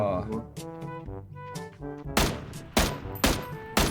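Gunfire in the battle royale game PUBG: a handful of loud, sharp shots cracking one after another at irregular intervals, close and punchy, following a stretch of tonal game sounds.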